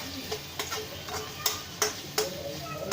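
Onions frying in a pan for a potato and egg curry, a steady low sizzle punctuated by several sharp ticks and taps of a spoon against the pan, close-up with brief talk nearby.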